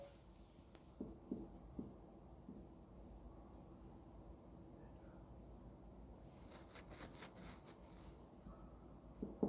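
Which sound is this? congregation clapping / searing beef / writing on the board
writing on the board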